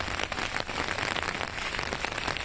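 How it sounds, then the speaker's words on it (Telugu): Light rain falls steadily with a dense, even patter close by, holding a constant level throughout with no voices. "వర్షం అయితే ఇప్పుడే కొద్దిగా తగ్గిందండి."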